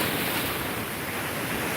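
Ocean surf rushes steadily with no break, a dense wash of waves mixed with wind buffeting the microphone, loud and close throughout.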